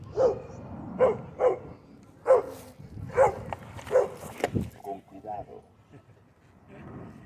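Dogs bark in a series of sharp, repeated yelps, fairly close, at a passing Inmotion V11 electric unicycle, its hum underneath and some voices mixed in.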